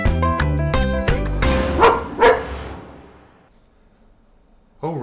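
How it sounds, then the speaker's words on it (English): A dog barks and yips in a quick run of loud, close calls over the first two seconds, then goes quiet before a short high voice at the end. "You're a dog."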